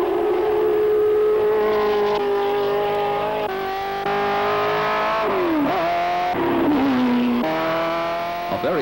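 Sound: Ford GT race car driving

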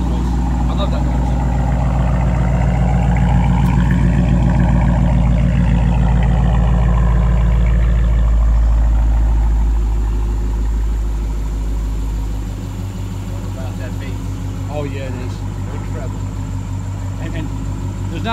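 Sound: car engine idling with new exhaust system

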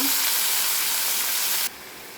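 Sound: frying onion and spinach in a pan for spinach pickle

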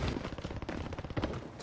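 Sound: gunfire in video game Warzone

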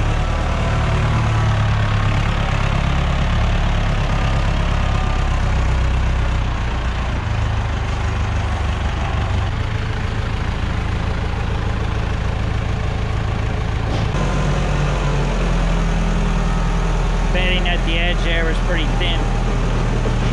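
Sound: tractor tiller engine chugging

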